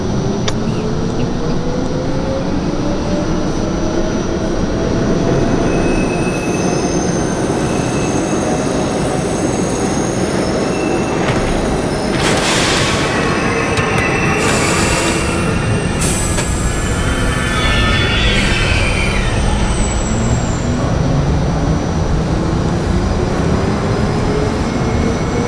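A simulated NYC Subway R32 train on a J run to Coney Island in OpenBVE rumbles continuously at close range, with rising and falling wheel squeals and a few high metallic tones along the way.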